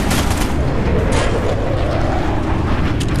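Dense gunfire in Call of Duty Black Ops, loud bursts and booming shots overlapping continuously in a chaotic firefight.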